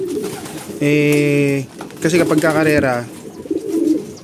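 Racing pigeons coo at a waterer in two or three close, tonal bursts, with someone speaking over and between them.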